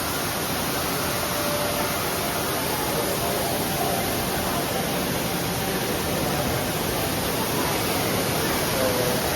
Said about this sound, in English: This is a nice waterfall here.